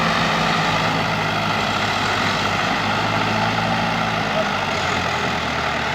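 A John Deere tractor sunk in a boggy field drones with a loud, continuous, close engine roar that holds steady throughout.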